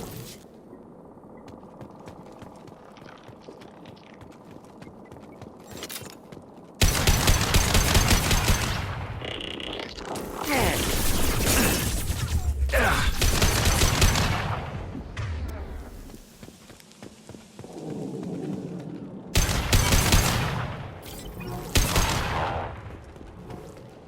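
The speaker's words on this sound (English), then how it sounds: "Firing a high-impact shot!" High-impact weapon shots and rapid gunfire in the video game Mass Effect 2, loud dense bursts of shooting with heavy booming impacts, sustained over long stretches after a quieter lead-in, with a sharp renewed barrage near the end.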